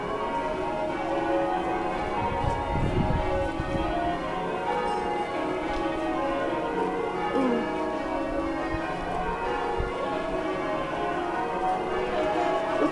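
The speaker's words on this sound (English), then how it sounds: "Welcome to Canterbury Cathedral. Yes, you have finally completed your pilgrimage. The bells chime." The church bells of Canterbury Cathedral chime continuously in a ringing wash of overlapping tones, heard from the busy cathedral precinct among crowd murmur and voices.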